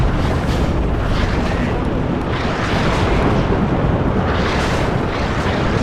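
In the Warno video game, a tank is destroyed by Apache fire, heard as a dense, rumbling explosion roar with sustained booming blasts and windy noise.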